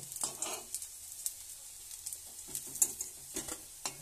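Fish roe fritters deep-frying in oil, a soft sizzle carrying scattered crackles and pops along with occasional light utensil clinks and scrapes against the pan, fairly quiet and uneven.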